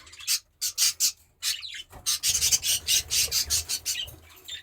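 Pet budgerigars chirp and chatter in a cage, a run of quick, bright high-pitched calls in close succession, with a brief pause before a dense burst of rapid chirping resumes.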